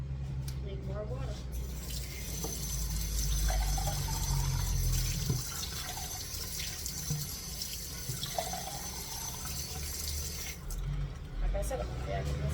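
Water runs and pours steadily for several seconds, splashing into a cooking pot, with kitchen clatter and some background noise around it.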